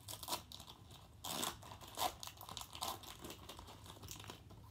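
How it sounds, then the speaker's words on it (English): Crinkly snipping as scissors cut open stiff Pokémon card packaging, a few louder crunchy bursts between quieter crackles, close by with no talking. "I'm just going to use the scissors"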